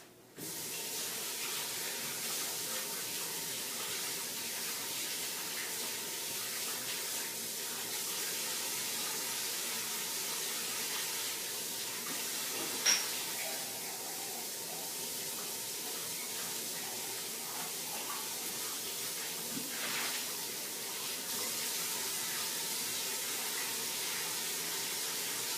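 A brownie pan being washed under a running kitchen sink tap, a steady broad hiss of spraying water that continues for the whole stretch, with a few brief clunks of the pan along the way.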